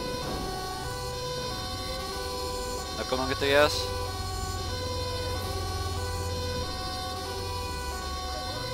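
Emergency vehicle siren in the video game GTA 5, a brief rising wail that sweeps up loudly for about a second midway, set against steady game ambience and engine hum while a person talks.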